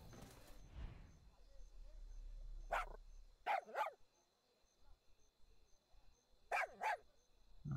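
A dog barking in the video game Far Cry 6, two separate pairs of sharp, close barks with quiet gaps between, following a burst of other game sound at the start.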